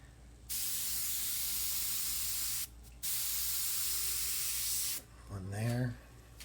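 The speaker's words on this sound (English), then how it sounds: "Far away with the airbrush, give a little wispy cloud there" An airbrush sprays paint in short bursts for wispy clouds on a photorealistic sunset painting, two steady hissing blasts close to the mic separated by a brief pause, followed by a voice speaking.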